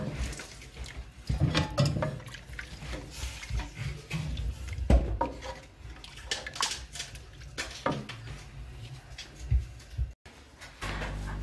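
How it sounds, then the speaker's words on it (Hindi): Strained chicken stock (yakhni) is poured into a pot of chicken vegetable corn soup, making a steady watery splashing and trickling with a few louder surges and clinks, close by with no talking. "अब मैं इसमें जो चिकन की यखनी है वो डाल रही हूँ"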